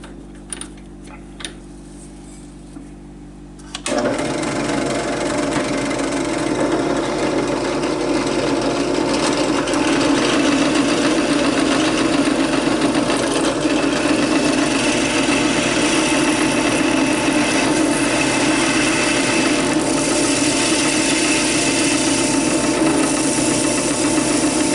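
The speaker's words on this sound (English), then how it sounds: "Now I could change out this standard drill bit for the step bit and try to bring the hole diameter to the final size." A step drill bit widens a hole in plastic for homemade wheel spacers for a Bruiser HG-P407 model truck. After a quieter start, a loud, steady motor whine begins and runs on without a break.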